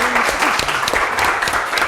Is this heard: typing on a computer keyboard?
no